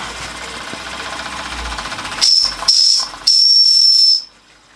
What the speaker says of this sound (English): Haven't tried the whistle yet.